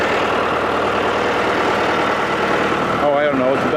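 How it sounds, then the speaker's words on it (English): A John Deere 2750 farm tractor engine runs steadily and loudly up close, a continuous low mechanical drone that ends with a voice speaking over it. "no way the tractor has enough to pull it up the hill, right?"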